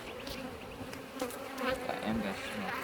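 Honey bees buzz steadily in an open hive, a dense, faint, continuous drone of many insects close by, with a voice briefly under it.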